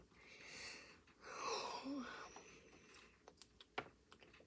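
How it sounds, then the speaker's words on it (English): A child yawns with a long, breathy, drawn-out exhale close by, followed by a few soft clicks and small movement noises. "Are you yawning?"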